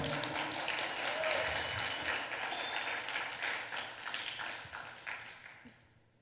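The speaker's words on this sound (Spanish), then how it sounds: "Denle un aplauso al Señor." A church congregation claps in applause during a revival sermon, a moderately quiet burst of steady clapping that gradually fades over about six seconds.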